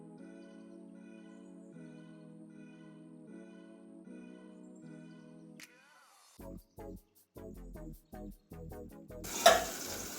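Bitter gourd chorchori cooking in a covered pan, with soft steady sizzling and faint chirps, then a sharp clatter as the lid is lifted, followed by a run of spaced scraping stirs and louder frying near the end.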